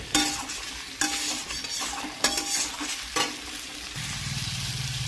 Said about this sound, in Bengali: দেখো ভালো করে নাড়াচাড়া দিয়ে দিলাম